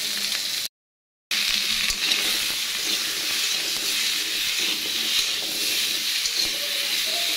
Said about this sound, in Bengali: তারপর কলিজা ভুনার জন্য তরকারিতে আলুগুলো একসঙ্গে ভেজে নেব।